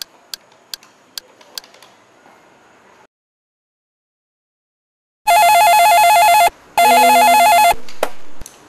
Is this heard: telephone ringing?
yes